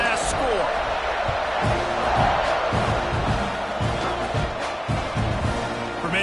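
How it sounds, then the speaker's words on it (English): A football stadium crowd keeps up a steady, loud buzz after a score, with a commentator talking over it throughout. "this crowd is buzzing after that last score"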